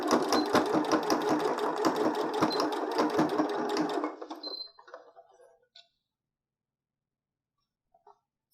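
A sewing machine runs a quick, even stitch along the short edge of bias tape for a fabric face mask, chattering steadily up close for about four seconds before winding down into a few faint clicks and silence.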